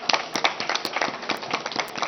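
Audience applause at a political speech in Pakistan, a steady patter of many hands clapping close by, with faint talk mixed in.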